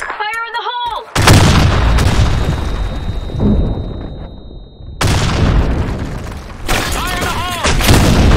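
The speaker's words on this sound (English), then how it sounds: "Fire in the hole! Grenade!" Grenade explosions in the shooter game Blackshot land as loud, booming blasts with long rumbling tails, two or three heavy bursts in quick succession, while shouted voices cut in at the start and end.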